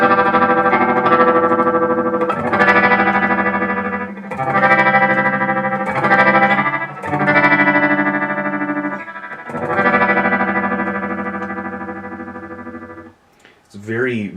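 Electric guitar chords run through an Electro Harmonix Stereo Pulsar tremolo pedal set to a fast, fluttery speed. Several loud sustained strums shimmer and pulse rapidly, ending with a brief swooping tail.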